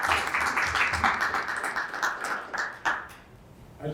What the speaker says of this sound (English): If you get a round of applause for Lord Turnbull.